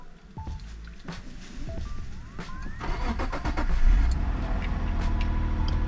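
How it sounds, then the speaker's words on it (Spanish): A five-cylinder car engine turns over on a cold start, cranking briefly before catching and rising into a loud, steady idle that stays close and rumbling. "Cold Start de estilo 5 cilindros."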